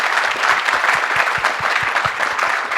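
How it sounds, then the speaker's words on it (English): Seminar audience applauding at a bar-industry cocktail event, a dense, steady wash of many hands clapping at close-to-mid distance, sustained and even throughout with no voices over it. "Please give them a round of applause."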